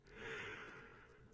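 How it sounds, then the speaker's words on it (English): A single long, breathy yawn, close and quiet, rising then slowly fading over about a second. "Great yawn"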